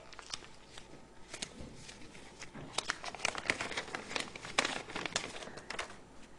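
Playing cards being shuffled by hand during a card trick demonstration, a run of close, crisp riffling and snapping bursts that builds and repeats over several seconds, quiet and without talk.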